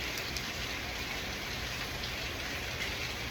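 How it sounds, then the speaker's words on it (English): Heavy rain pours down steadily, a dense, even hiss of drops on surfaces with no pauses and no voices over it. "What you're hearing in the background, I hope you hear it, it's the rain,"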